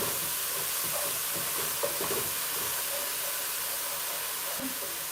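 Rosemary coconut milk fried rice sizzles and hisses steadily in a pan while being stirred, with faint scraping and soft clicks in an even, continuous texture.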